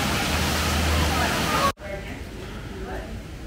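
Steady broadband rush of a waterfall at the gorilla exhibit of San Diego Zoo, loud and close, cutting abruptly to a quieter, softer water hiss with faint background murmur.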